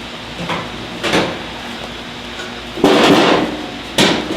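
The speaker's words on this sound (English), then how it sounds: "when I hit this, it's just not transferring the energy the way it needs to" Someone hammers on a Lynx grill part, landing four heavy, separated metallic blows at irregular intervals, each a loud close thud with a brief ring-out.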